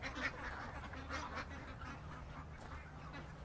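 A group of ducks quacking steadily, a continuous busy chorus of overlapping calls at close range.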